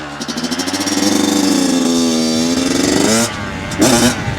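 A Kawasaki KX112 dirt bike engine revs up and holds a high buzzing pitch, then drops off briefly before a short sharp blip of throttle near the end; close and loud with no talk.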